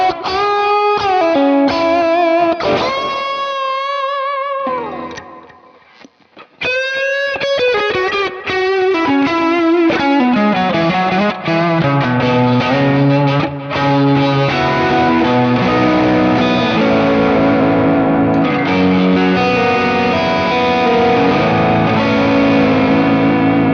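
Electric guitar run through a drive pedal with a mid boost into a Kemper profiler, playing loud distorted chords and riffs with a brief dip near the middle, then continuing with sustained, saturated tone.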